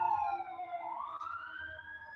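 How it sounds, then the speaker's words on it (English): An emergency siren wails from outside, its tone sweeping down and back up, moderately faint and steady with the sound of passing at a distance. "I don't know if you guys can hear it, but there's a siren"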